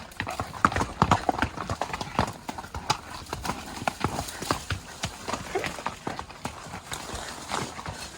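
Horse hooves clip-clop steadily and close by on a rough, steep desert trail in Arizona, a continuous uneven rhythm of hard strikes on rock and dirt.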